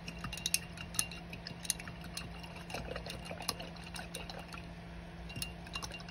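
A paintbrush is rinsed in a water jar while mixed-media art journaling, giving light sloshing and small clinks against the container, close and fairly quiet, with a low background hum and no talk.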